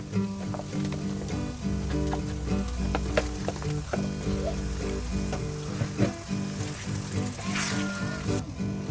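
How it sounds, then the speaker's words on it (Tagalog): Chicken sizzles steadily in a pan of curry mixture seasoned with curry powder and black pepper, with stirring scrapes and soft pops over a constant frying hiss and a faint background hum. "And now we can add our chicken."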